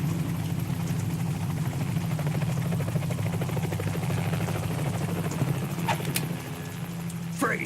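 Continuous low thudding drone of a helicopter rotor in the video game Metal Gear Solid 2: Substance, steady and fairly loud, with a couple of brief sharp sounds near the end.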